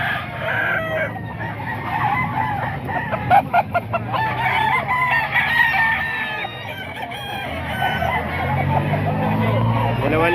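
Chickens and roosters for sale at a market crow and cluck repeatedly in the background while people talk nearby, with faint passing traffic.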